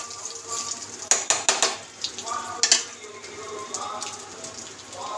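Milk poured into a pan of fried vermicelli (semai) for sawai gives a few sharp clattering hits of spoon against pan, then a steady soft sizzle and bubbling hiss that carries on at close range.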